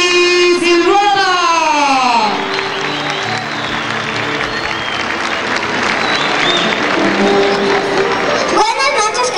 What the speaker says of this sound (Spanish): Quiero que la recibamos con un fuertísimo aplauso